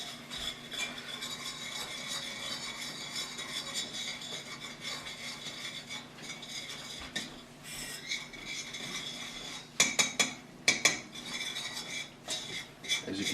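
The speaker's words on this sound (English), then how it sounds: "Incorporate that flour into the fat and the shallots." Roux of flour, fat and shallots being stirred in a pot for lobster bisque, a steady scraping and rubbing of utensil against cookware with a few sharper clinks near the end, close and moderately loud.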